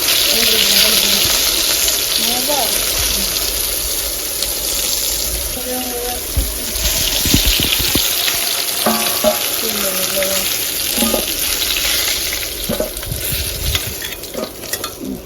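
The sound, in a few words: fish frying with ginger and cumin paste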